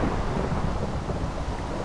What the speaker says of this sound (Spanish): Y todavía sigue la lluvia.